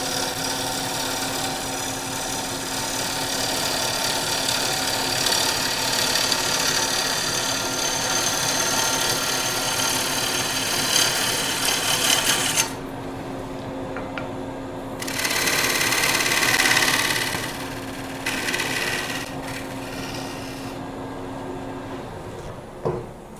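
Cherry bowl being roughed out on a wood lathe, a loud steady whir of the spinning blank with a gouge making a quick cleanup cut on the curve, then a lull and another short burst.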